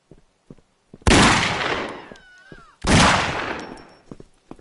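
Two long, loud bursts of gunfire from the video game Postal 4, each roughly a second and a half, fading slowly, separated by a short gap with faint whistling tones and scattered small clicks around them.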